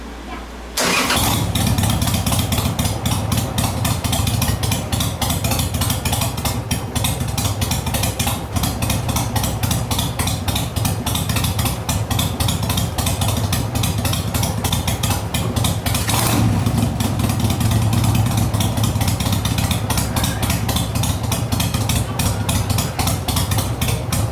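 A Harley motorcycle with a CV carburetor starts and runs on a stand during carb tuning, catching abruptly and then holding a loud, steady, close idle with a brief revving surge midway, no talking over it.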